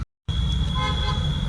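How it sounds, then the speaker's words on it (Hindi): A car horn gives one sustained, steady toot amid road traffic noise, loud and close after a brief silence. "अरे भाई हॉर्न बजा लो तुम"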